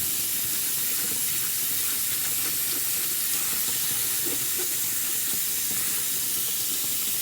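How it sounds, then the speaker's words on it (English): Harvested seeds being rinsed under running tap water in a sink, a steady close hiss of flowing water with faint swishing, no talk. "I'm just literally going to rinse them around"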